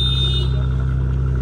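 A sports car's engine idles after being started, a loud, steady low rumble with a deep pulsing hum and no talk over it.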